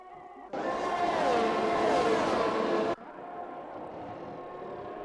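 A race car in a sim racing league event on the China circuit sweeps past loudly for a couple of seconds, engine tone rising and falling, then drops back to a steadier, quieter drone of other cars.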